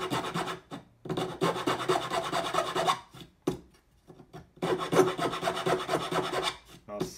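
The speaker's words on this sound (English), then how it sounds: "I will take my key file that's half round and open this up a little bit" A half round key file works on a wooden jeweler's bench pin in three bursts of steady close rasping strokes, separated by short pauses, with no talking.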